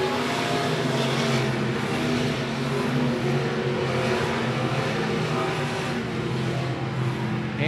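Stock cars racing through the corners at I-76 Speedway, a dense, continuous engine roar that stays loud and steady throughout with no gaps.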